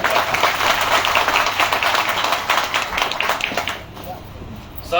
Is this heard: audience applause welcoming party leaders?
yes